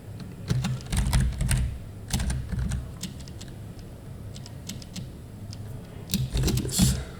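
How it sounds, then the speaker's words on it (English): Notes being typed on a computer keyboard in surveying CAD software: scattered clusters of crisp, close key clicks with gaps between them, ending in a louder run of presses, with no voices. "All right, and we'll type this in."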